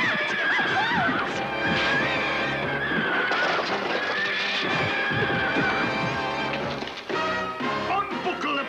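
Carriage horses neigh shrilly and crash about as they refuse the harness, with repeated loud whinnies, thuds and hoof clatter up close, mixed with a dramatic film score.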